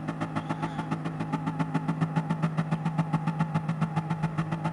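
Race car engine in the video game GT Sport revving steadily on the grid before a race start, a rapid regular pulsing drone held at constant pitch throughout, loud and close with no talk.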